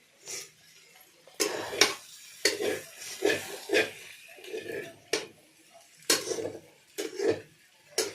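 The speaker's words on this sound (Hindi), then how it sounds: "ये चम्मच चलाओ, जल्दी निकालो।" Spoon stirring potato sabji in a pan makes distinct close scraping and clinking strokes in an irregular rhythm, each stroke separated by brief quiet gaps.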